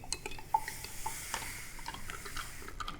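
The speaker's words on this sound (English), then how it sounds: "you're going to use your spoon to stir it just like you did with the crystal" A spoon stirs alum into water in a jar, giving light, scattered clinks and scrapes against the glass at close range, with one sharper tap partway through and no voices.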